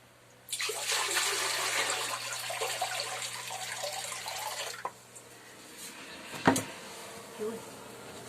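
Water is poured into a clogged toilet bowl, a steady rushing splash for several seconds that then stops, followed by faint drips and a few small knocks.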